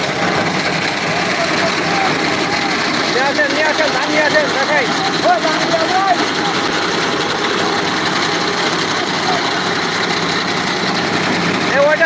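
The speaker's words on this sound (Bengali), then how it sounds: "আরে ধান ঝাড়াই মেশিন শুধু ধান ঝাড়াই না কারণ অন্য অন্য ফসল ঝাড়াই করে" A paddy threshing machine runs steadily nearby with a continuous mechanical whir and rattle, while people talk over it.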